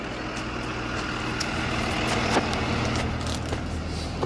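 A school bus at a gas station, its engine rumbling steadily nearby with faint clicks and knocks over the low drone, no talk.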